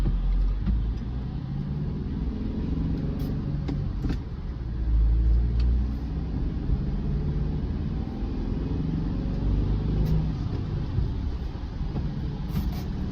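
Low engine rumble of a manual transmission car pulling away in wet weather, steady and close, with a mild rise in revs as it rolls forward; no voices.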